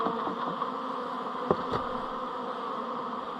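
Honey bees swarm and buzz at an opened hive in winter. A steady, close, dense hum holds throughout, with a few brief taps and clicks near the middle.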